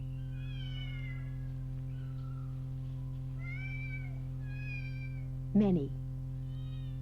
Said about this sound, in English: Mittens has many kittens.